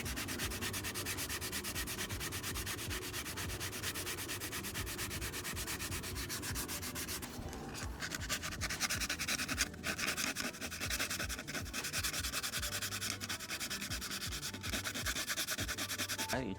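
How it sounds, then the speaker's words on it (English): Car wheel filler being sanded by hand with 100-grit sandpaper, a steady rhythmic scratching of back-and-forth strokes, close and moderately loud, with a brief pause in the middle. "within like 5 minutes I can probably start sanding this down"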